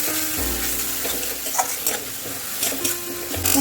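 Ground cumin and chili powder fry with ginger-garlic in a hot pan for a jackfruit dish, a steady close sizzle broken by scraping stirs and soft clinks of the spoon on metal.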